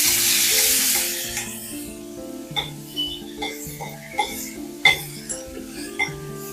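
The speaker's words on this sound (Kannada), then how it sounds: "ಸ್ವಲ್ಪ ಎಣ್ಣೆ ಬಿಟ್ಬಿಟ್ಟು ಹುರಿಯೋಣ." Tomatoes frying in a little oil in a pan for a village-style thin sambar, a steady sizzle that rises loud at first and then settles, with scattered stirring knocks and pops throughout.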